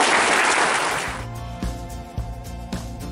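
A burst of audience applause at a gathering of students and officials in Cilacap lasts about a second before fading, followed by a steady musical tone with rhythmic low beats.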